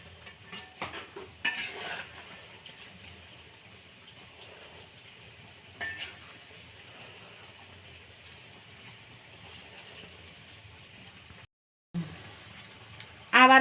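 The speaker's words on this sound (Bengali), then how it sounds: "এখন আমি পেঁয়াজিগুলো ভেজে নেব" Lentil and onion fritters fry in hot oil with a constant low sizzling hiss, broken by occasional clinks of a spatula turning them in the pan and a louder clatter near the end.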